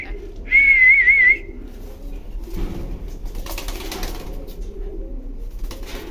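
A sharp, warbling whistle sounds briefly at the start, then racing pigeons coo softly and rustle nearby inside a loft.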